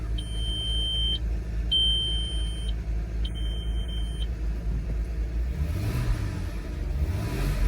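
Audi Allroad 2.7 biturbo engine idling steadily after start-up, a low continuous rumble throughout, with a repeating electronic warning chime beeping three times over it, then the idle note shifting slightly near the end.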